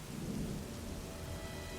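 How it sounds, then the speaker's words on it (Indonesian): Heavy rain pours down steadily with thunder rumbling low beneath it, a dark, continuous storm wash with no voices. "Di luar hujan deras dan gelap."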